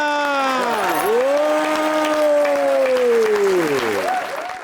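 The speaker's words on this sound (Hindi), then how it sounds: "तालियां" Studio audience applause on a Punjabi-language TV talk show, a steady broadband patter of many hands running under a loud, sweeping tonal sound that glides down and back up across the few seconds.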